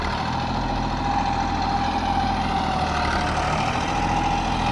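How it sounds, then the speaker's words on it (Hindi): A tractor runs steadily as it crosses a raised earthen ridge between dry farm fields before ploughing. The engine makes a loud, continuous low drone with a faint mid-pitched whine throughout and no speech. "अब ट्रैक्टर हा मोर दूसरा डोली में जा बार ये मेड़ ला ये पार कर डरी"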